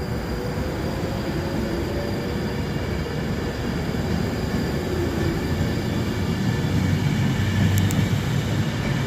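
Class 390 train 390-050 rushing past at Rugby on the West Coast Main Line, a sustained loud roar of wheels and rails lasting throughout, with a brief high squeal near the end.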